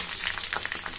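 Green chillies and ginger fry in a hot pan with a close, steady crackling sizzle and small popping bursts, continuous throughout the short moment.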